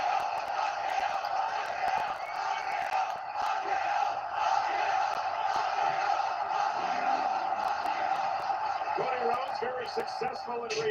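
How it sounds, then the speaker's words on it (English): A loud arena crowd at a WWE Night of Champions wrestling event roars and cheers continuously, a steady dense wall of voices with a sustained tonal chant, heard from a distance without breaks. "Man, this crowd is so loud."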